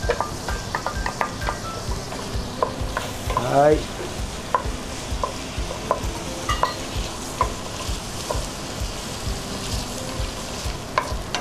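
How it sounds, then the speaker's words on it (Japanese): May Queen potato cubes are fried over medium heat and stirred in olive oil for Ukrainian red borscht. A constant close sizzle is broken by regular scrapes and taps of a utensil against the pan, with no voices. "このオリーブオイルに絡めていってね"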